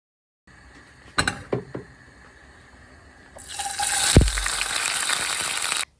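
Garlic hits heated cooking oil for a thin lentil dal. After a few sharp utensil clinks, a steady, loud sizzling hiss starts suddenly and runs for a few seconds, then cuts off.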